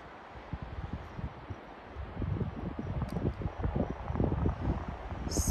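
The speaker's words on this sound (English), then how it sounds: "So windy today, but" Wind gusts over a hiking trail near Idledale, Colorado, a low rumbling buffeting on the microphone that grows stronger and more turbulent in the second half, with no talk.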